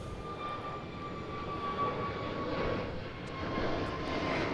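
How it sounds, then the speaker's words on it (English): An EasyJet airliner taxis at Gatwick Airport, a steady engine roar and whine swelling slightly, heard from some distance without talking. "So you can probably see the EasyJet taxiing down there."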